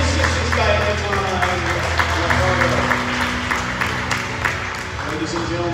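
A gym crowd claps and cheers for the head coach of a college volleyball team before a match, sustained applause running under an amplified announcer's voice.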